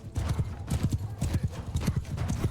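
Cavalry horses gallop in the Mount & Blade II: Bannerlord video game, a rapid, rolling beat of hooves that stays loud and close throughout, with whinnies mixed into the thunder of the charge.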